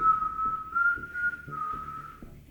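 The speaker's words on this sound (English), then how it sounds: "Bird whistling." A steady, tuneful whistle holds a wavering pitch for a couple of seconds, with soft background murmurs and clicks underneath.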